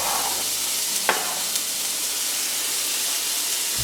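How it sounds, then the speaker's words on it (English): Chopped garlic and onion sautéing in Irish butter give a steady, close sizzling hiss that runs throughout, with a brief utensil scrape near the start. "And saute them for 2 minutes."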